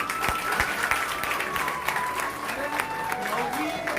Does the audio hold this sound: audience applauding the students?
yes